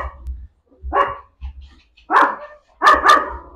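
A litter of small puppies in a kennel yips and barks in short, separate bursts, close and fairly loud, with brief quiet gaps between calls.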